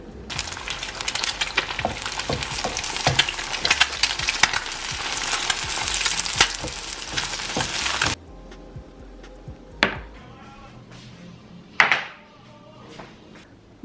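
Sausage and kimchi stir-frying in a pan, a dense continuous sizzle with scraping stirs for about eight seconds, then quieter with a few isolated clinks and bumps near the end.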